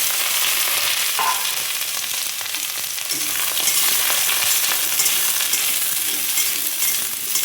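Eggplant slices frying in hot oil in a heated wok, a steady close sizzle and crackle that runs unbroken throughout, with faint stirring scrapes and no talk.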